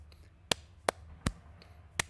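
Hambone body percussion, hands striking chest and thigh in a short syncopated pattern of four crisp slaps plus lighter taps, close-miked and alone without speech.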